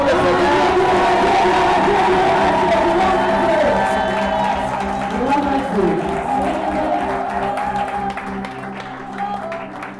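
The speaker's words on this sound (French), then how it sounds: "On acclame très fort pour le Seigneur" A church congregation in Brussels cheers and acclaims loudly to welcome a visiting apostle. The sustained crowd roar of mingled voices and clapping fills the whole stretch, then eases slightly toward the end.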